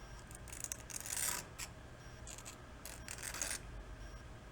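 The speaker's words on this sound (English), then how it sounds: "Just kiss the top of those points real light with a file." A file lightly rubs the ignition points of an antique snowblower, making short, faint, scratchy strokes in a few separate bursts close by against a quiet background.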